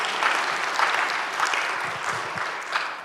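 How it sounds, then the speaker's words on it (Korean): A church congregation claps together in a sustained, dense round of applause that fills the room, with a few voices faintly audible beneath it. "우리 하나님께 한번 감사의 박수 한번 올려드려야 됩니다."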